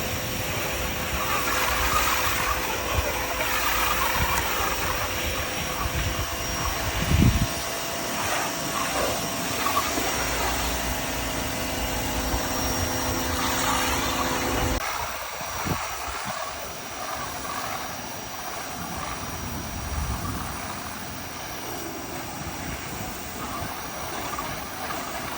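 A pressure washer cleans a dirty fence, giving a loud, steady hiss of spray over a motor drone that runs the whole time, shifting in tone about halfway through.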